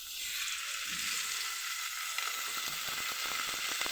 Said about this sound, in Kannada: ನೋಡಿ ಎಣ್ಣೆ ಹಾಕೋತಾ ಇದ್ದೀನಿ.